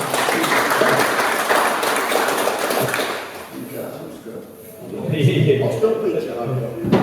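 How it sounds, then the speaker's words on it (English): Applause from the audience at a council meet-the-candidates event, steady clapping for about three seconds that fades, then a voice speaks over the room. "A round of applause, please, for John."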